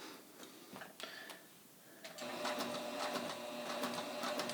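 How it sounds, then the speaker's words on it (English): A sewing machine runs off the edge of the fabric with a small stitch length while sewing a dart. Quiet handling sounds come first, then a steady, close mechanical whir for the last couple of seconds, with no talking. "I'm just going to stitch off the edge of the fabric using a smaller stitch length."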